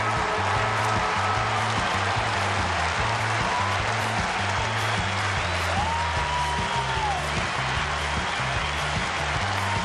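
At half-time at Skilled Stadium, where Geelong lead Melbourne, the stadium crowd roars and cheers in a continuous, distant wash of noise, with a low rhythmic pulsing underneath.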